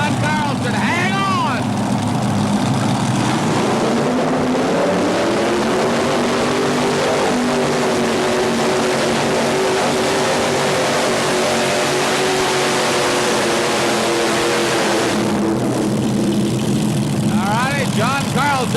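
Unlimited hydroplane racing boat of about 4,500 horsepower, its turbine-driven roar steady and loud for most of the stretch, with race-commentary talk at the start and end.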